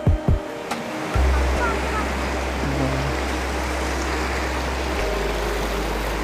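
Muddy river water flowing fast near a waterfall, a broad steady rushing roar that follows a few brief knocks, with a low motor-like drone underneath throughout.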